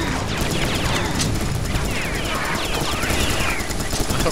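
Dense, continuous video game gunfire from Serious Sam 3: BFE in a co-op mission, with overlapping rapid automatic bursts and explosive crashes filling the scene, loud and unbroken throughout.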